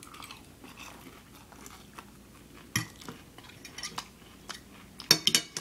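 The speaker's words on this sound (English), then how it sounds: "eating some coconut shrimp with some sauce" Someone eating sweet coconut shrimp with sauce: intermittent bites and chewing crunches with light cutlery and dish clinks, close and fairly quiet, a few sharper crunches near the end.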